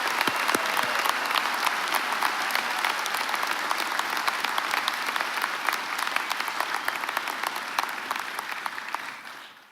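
Audience at a university commencement ceremony applauding graduates, a broad steady wash of clapping from a large crowd that carries on evenly and then fades out at the very end.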